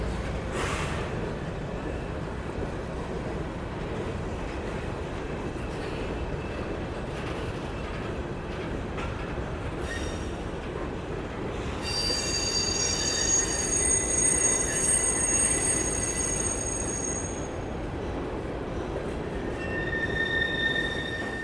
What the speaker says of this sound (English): And there's the train going through.